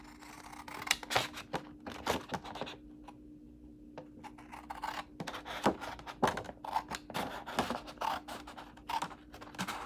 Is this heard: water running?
no